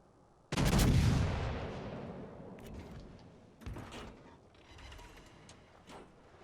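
Naval ship guns fire at a target in a battleship video game. A single loud, deep boom rolls out and decays over a couple of seconds, followed by fainter distant thuds and clanks.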